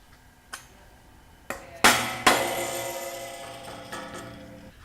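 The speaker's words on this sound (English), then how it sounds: "That'll grab into the square stock when I hammer it down." Metal foot covers hammered onto square steel stock for a work table: several sharp ringing strikes at irregular intervals, two louder blows in the middle with lingering metallic ring, no talk.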